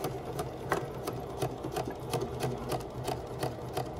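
A sewing machine stitches a dart in fabric with a steady, rapid needle patter and regular thumps, close and fairly quiet with no talking.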